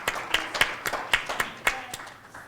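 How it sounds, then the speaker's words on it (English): A small audience at a university sports-career talk claps sparsely, a handful of distinct, uneven hand claps rather than a full ovation, close and fairly quiet, tapering off toward the end. "All right, round of applause there"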